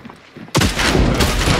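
Gunfire in Hunt: Showdown breaks out suddenly after a quiet moment, a loud close blast followed by a dense rattling burst of shots that fills the rest of the moment.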